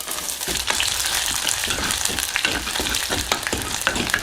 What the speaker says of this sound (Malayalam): കടുക് വറുക്കാൻ ആവശ്യമായ അല്പം വെളിച്ചെണ്ണ ഇടുക, 1/2 ടീസ്പൂൺ കടുക്, ഇനി 2 മുളക് കൊടുക്കുക, കുറച്ച് കറിവേപ്പില,